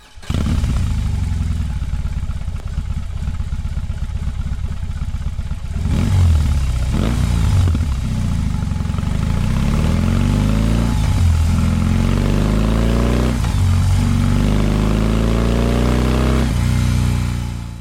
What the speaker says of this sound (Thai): มาฟังเสียงเครื่องยนต์กันครับ